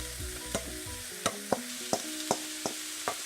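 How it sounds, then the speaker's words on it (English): Spinach goes into a sizzling chicken burrito mixture in a pan, with steady frying hiss broken by a series of sharp scraping and stirring knocks about every half second, close and moderately loud, no voices. "And then we're going to add the spinach, which will add back some nice moisture and help the mixture to stick together."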